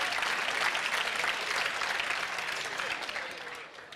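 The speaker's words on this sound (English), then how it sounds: "Give yourself a round of applause." A dense, steady round of applause from a seminar audience, loud and continuous before tapering slightly toward the end.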